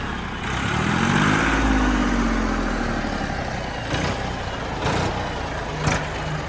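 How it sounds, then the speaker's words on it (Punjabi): A Massey Ferguson 241 tractor engine starts and settles into a steady mid-pitched running rumble, fairly close, with a few sharp clanks toward the end. "ਸਟਾਰਟਿੰਗ ਚੈੱਕ ਕਰੋ ਟਰੈਕਟਰ ਦੀ ਐਨ ਵਧੀਆ ਸਟਾਰਟਿੰਗ ਆ"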